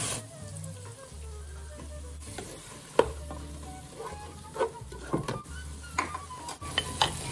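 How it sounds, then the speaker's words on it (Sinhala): Red wine pours into a pan of sizzling beef for lasagna, giving a soft, ongoing fry with scattered stirring scrapes and knocks against the pan, close by and without talk. "දැන් අපි මේකට රෙඩ් වයින් කෝප්ප 4න් එකක් එකතු කරගන්නවා."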